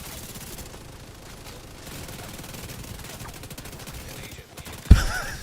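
A video game shootout fills the air with rapid, continuous automatic gunfire in dense bursts, closing with a sharp, louder impact.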